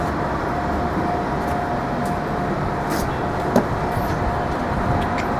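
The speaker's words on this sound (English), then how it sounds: "let the train pass by" Subway train passing through a station in the Bronx, a continuous rumbling roar with rattling wheel clicks and faint squeals, steady and fairly close, without speech.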